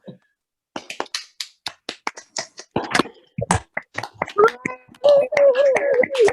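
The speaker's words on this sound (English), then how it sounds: "unmute yourselves, and let's give them a round of applause" Scattered hand claps from an online poetry event audience, unmuted in a call, sounding as sparse separate taps that grow busier and overlap, with a voice and some tonal sound rising in the last seconds.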